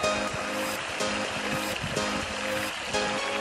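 Water pours over the rocks of a backyard pond waterfall in a steady, close, broadband rush with no pauses.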